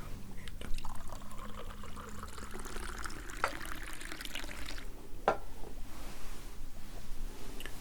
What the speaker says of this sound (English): take an empty vial and take the cauldron and pour through a funnel